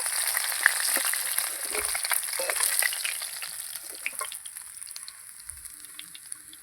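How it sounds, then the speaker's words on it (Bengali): Small pieces of soft fish crisping in hot oil in a pan give off a steady close sizzle and crackle, with occasional spatula clinks and light scraping as the pieces are turned. "আর এই মাছগুলো কিন্তু খুব কড়া করে ভাজতে হবে"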